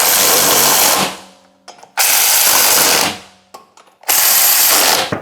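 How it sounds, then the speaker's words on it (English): An electric ratchet snugs lug nuts onto the freshly installed wheel of a Chevrolet Colorado or GMC Canyon after a hub bearing replacement, giving three loud, close, whirring bursts about a second long, separated by short pauses and faint clicks. "I'm just going to go ahead and snug them up with the electric ratchet"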